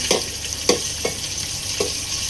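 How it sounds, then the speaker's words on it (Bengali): Prawns frying in a little hot oil, a steady sizzle broken by four sharp stirring scrapes spaced through the stretch, close and moderately quiet, with no voices. "এখন আমি দিয়ে দিব চিংড়িগুলো।"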